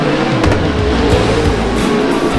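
Race car on a dirt oval throttling up out of turn 4, a loud, close engine roar holding steady across the short stretch.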